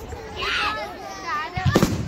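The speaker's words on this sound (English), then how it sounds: "Fireworks in my mind is just gunshots. They pretty much sound like gunshots, don't they?" Fireworks at a Bonfire Night display in a Scottish hometown: rising whistles and crackling bursts go off near the viewers, ending in a cluster of sharp pops, while voices talk over them.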